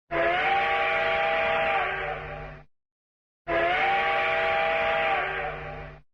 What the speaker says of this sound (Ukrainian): Сигнал евакуації з міста.